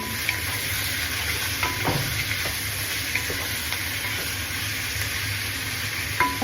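Chicken and garlic sauté in a pot for sopas, a steady, close hiss of frying broken by a few sharp scrapes and knocks as the mixture is stirred.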